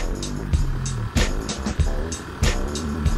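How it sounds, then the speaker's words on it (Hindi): A Maruti Alto car's engine straining up a steep, cold mountain road, a steady near drone with shifting engine tones and some bumps, while voices talk over it. "ऑल्टो आ रही है हमारे पीछे"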